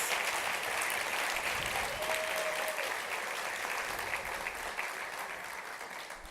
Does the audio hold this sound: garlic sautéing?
no